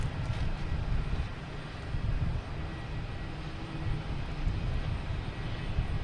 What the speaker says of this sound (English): Now we have a Delta E170.